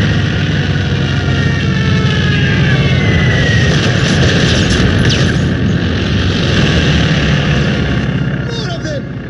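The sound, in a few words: Stuka dive bombers attacking in Company of Heroes 2 video game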